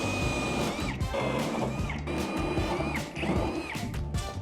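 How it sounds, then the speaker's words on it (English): A power drill bores holes through wooden I-joists during home wiring work, its motor whining in repeated bursts roughly every second with grinding bites into the wood, close and loud throughout. "So I'm gonna stick to drilling holes."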